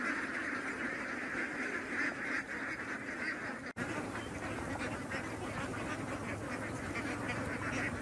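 A flock of ducks quacks continuously in a dense, overlapping chorus outdoors at a grazing spot in Satkhira, fairly faint and steady throughout.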